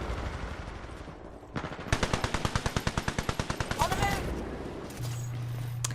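Alternator submachine gun fire in Titanfall 2 during pilot-versus-pilot play: a rapid run of about fifteen sharp, evenly spaced shots in one long burst, close and loud over game ambience, with a voice talking.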